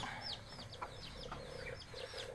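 Chickens cluck softly nearby while a chick gives repeated high, thin peeps over a quiet farmyard background.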